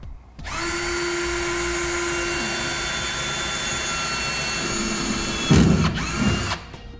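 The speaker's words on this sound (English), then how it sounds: "if you go ahead and drill out your 1/8 inch pilot hole from the marks that we made with our center punch" A power drill spins up and runs steadily for several seconds, boring a 1/8 inch pilot hole in a Ram truck bed for a Curt fifth wheel bracket, its high whine close and loud before it clunks to a stop.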